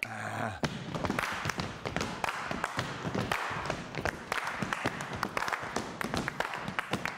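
A group at a STOMP rhythm workshop stomps and claps a right-left-right-clap pattern together, producing repeated percussive thuds and claps at a moderate level.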